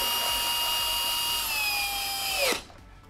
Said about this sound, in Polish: Kręcamy ostatnią, dociągamy wkręty, śruby